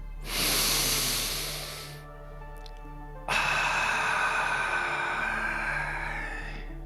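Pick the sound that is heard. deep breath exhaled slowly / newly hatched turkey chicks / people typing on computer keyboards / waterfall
deep breath exhaled slowly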